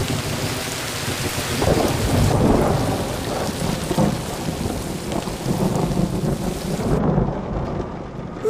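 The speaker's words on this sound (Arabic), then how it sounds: "سينهمر المطر بغزارة" Heavy rain pours steadily with deep rolling thunder rumbling through it in an animated film, a dense, loud storm wash that stays constant and ends in a duller stretch with the high hiss cut away.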